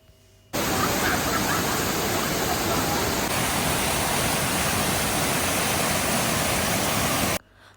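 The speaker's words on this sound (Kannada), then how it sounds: "ಅಲ್ಲಿರುವಂಥದ್ದು ಬಂಗಾರ ಕುಸುಮ ಫಾಲ್ಸ್ ಅಂಥೇಳಿ." Bangara Kusuma waterfall in Uttara Kannada roars at full monsoon flow, a loud, dense, unbroken rush that starts abruptly and holds steady before cutting off near the end.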